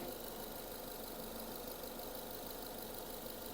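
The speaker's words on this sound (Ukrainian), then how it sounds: "Працює двигун рівно." A 2007 Renault Scenic II 1.6 petrol engine with automatic gearbox idles steadily and evenly, a constant low hum with no talking.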